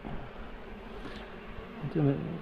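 Honey bees bearding and fanning at the front of a crowded hive, a steady close insect hum with a louder buzzing burst near the end.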